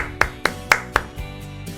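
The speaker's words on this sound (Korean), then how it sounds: "알리 부활에 박수를 한번 보내겠습니다." Several sharp claps ring out one after another at a steady beat, fairly close, with no voices over them, as applause for a Tottenham player's comeback after a 4–0 football win over Wolfsberger.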